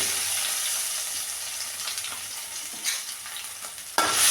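Crushed ginger, garlic and mustard seeds frying in oil for a small-fish curry, a bright hissing sizzle throughout with a few stirring bumps and a louder burst near the end.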